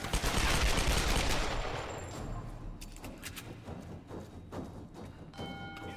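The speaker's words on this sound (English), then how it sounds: "he's shooting at me" Gunfire aimed at the player in Tomb Raider Definitive Edition (2013) begins as a loud, dense roar of shots, then thins into scattered sharp cracks and thuds over a noisy background.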